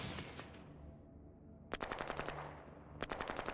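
Two rapid bursts of machine-gun fire crackle during an attack in the strategy war game Shadow Empire, following a fading rumble, each burst a quick string of sharp shots, moderately loud.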